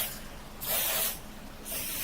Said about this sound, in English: You can give it a little spray to make sure that it's clean